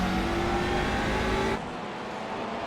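Touring race cars in a racing video game at Okayama, engines droning loudly and steadily as they run close together, the roar dropping abruptly to a quieter hum partway through.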